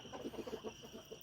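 Soft, low clucking from native chickens, a run of short repeated calls at an even pace, quiet and fairly close, with a faint steady hiss behind.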